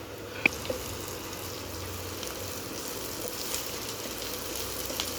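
Onion with salt frying in a pan, a steady soft sizzle with a brief louder crackle near the start, no voices.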